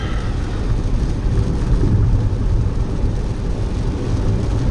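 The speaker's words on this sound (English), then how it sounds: "But at least we're getting rain." Steady heavy rain with low rumbling thunder rolls continuously, loud and close, with no voices.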